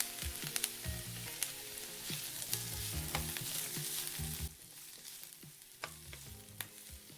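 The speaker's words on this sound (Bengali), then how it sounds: "তারপর ফুলকপির টুকরোগুলো দিয়ে ভালো করে ভেজে নেব।" Cauliflower pieces frying in oil in a wok, a close crackling sizzle with repeated scraping stirs and clinks of the spatula, quieter after a few seconds but still bubbling.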